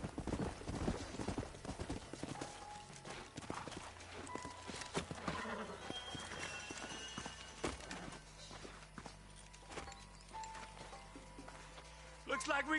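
Horse hooves clip-clopping in Red Dead Redemption on PS5, a steady run of hoofbeats with game sounds and voices mixed over them throughout.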